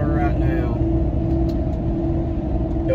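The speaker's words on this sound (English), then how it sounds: "if you can hear anything at all, it's you know, tire noise, not exhaust or anything like that" Steady, loud road roar and low hum from Federal Xplora MT 33x12.50/22 mud-terrain tires on a truck cruising at about 60 mph, a continuous drone inside the cab with no breaks.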